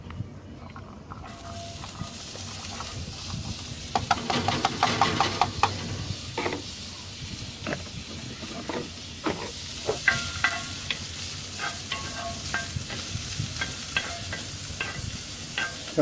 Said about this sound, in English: Get these onions cooking.